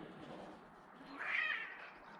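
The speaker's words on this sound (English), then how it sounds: "there's some cats over there fighting" Outdoor cats fight some distance away, letting out a drawn, rising yowl that swells and fades over a couple of seconds, faint and alone.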